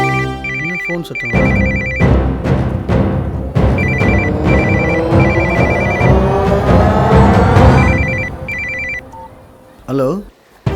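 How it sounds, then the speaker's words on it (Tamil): A phone rings with a repeating electronic tone in regular bursts, under a busy layer of music and background sound, in a Tamil film. "ஃபோன் சத்தம்."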